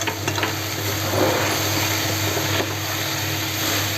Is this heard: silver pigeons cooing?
no